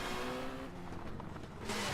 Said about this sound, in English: Great engine sounds.